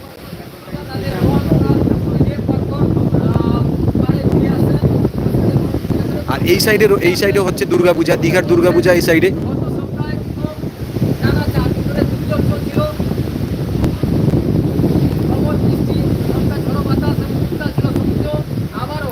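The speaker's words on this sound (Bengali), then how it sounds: "চলছে প্রবল গতিতে বাতাস প্লাস হচ্ছে সমুদ্র ও বেশ পরিমাণে উত্তাল রয়েছে" Strong wind buffets the microphone over a rough sea at Old Digha beach, a loud unbroken rush with surf beneath, while someone talks throughout and brief music drifts in midway.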